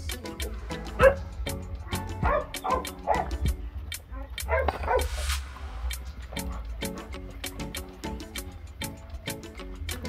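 Seven-week-old pit bull puppies yip and bark in quick, overlapping bursts throughout, close by, with a voice faintly mixed in at times.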